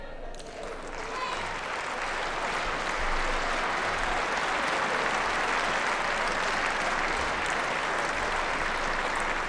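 A sustained round of applause from a neighbouring court at a badminton tournament, a dense steady clapping from a crowd that holds at an even level throughout.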